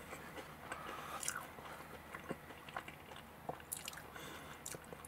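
Close-up bites and chewing of a Pizza Hut Gratin Hut Melt, a pizza with gratin inside, giving soft crunches and squishy mouth sounds at an irregular pace with no talking.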